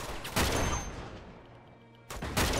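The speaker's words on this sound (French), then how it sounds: "comme il me tire dessus en même temps, je peux pas viser." Enemy gunfire in the video game Uncharted 2: Among Thieves, with two sharp bursts of rapid shots separated by a fading, quieter stretch.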